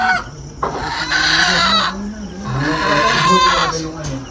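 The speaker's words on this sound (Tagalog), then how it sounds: "May nanghuli ng manok." A chicken clucks loudly and close by in repeated agitated bursts while people talk over it.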